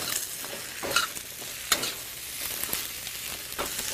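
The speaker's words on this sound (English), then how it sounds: "Now mix in very carefully all the zucchinis so that they're well coated with spice." Zucchini tossed with coriander powder and spices sizzles in a frying pan under steady stirring, with a constant hiss broken by scraping knocks from the spoon, close and fairly loud.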